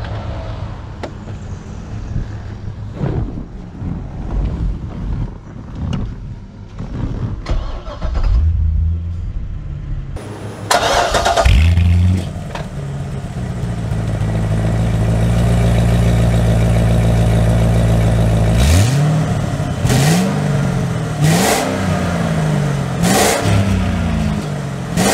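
A Chevrolet Corvette C6 Z06 engine cranks and fires up midway, settles into a deep, loud idle, then gives several short rising revs near the end, heard close without any talk.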